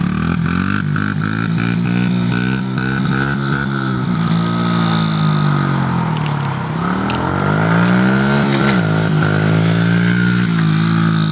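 A motorcycle engine revs up and down in long swelling waves during wheelie stunts, loud and close throughout with a steady throaty drone and no talk.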